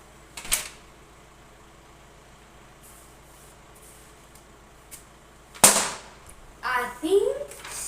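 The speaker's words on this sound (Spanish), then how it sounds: "se hace un sonido de petardo con un solo papel" A folded sheet of paper is snapped sharply downward to make a firecracker-like bang, with two sharp cracks well apart in a quiet room. A voice follows at the end.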